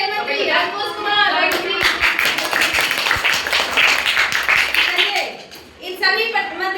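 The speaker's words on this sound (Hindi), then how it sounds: "ताली बजाने में कंजूसी नहीं" Schoolchildren clap during a school children's parliament event, a dense burst of many hands in a classroom. The applause swells and continues for several seconds under adult and children's voices, then fades as talk resumes.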